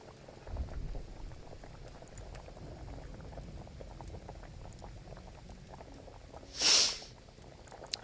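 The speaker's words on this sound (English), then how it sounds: "Listen to the bubbles to know when it's done." A pot boils steadily with dense, continuous bubbling and popping, close and moderately loud, with one brief brighter hiss burst near the end.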